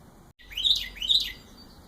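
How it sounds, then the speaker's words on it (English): Two bright, chirping bird calls ring out in clear succession over a quiet background, each a short rising-and-falling tweet with a gap between them, fairly close and alone with no talk. "Birds are singing."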